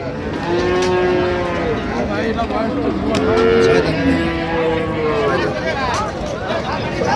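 Several dairy cows and calves moo in long, overlapping calls close by at Raniganj cattle market in Dinajpur, with steady crowd noise and voices filling the background throughout.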